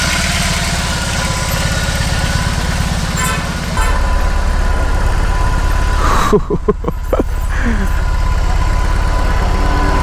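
An 1800cc boxer-engine motorcycle idles close by, a loud steady rumble that shifts slightly partway through, with people talking over it.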